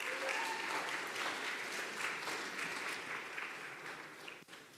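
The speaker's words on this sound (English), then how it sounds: "Another round of applause." Audience at a Sunday morning church celebration service claps steadily in a warm, sustained round that tapers off near the end.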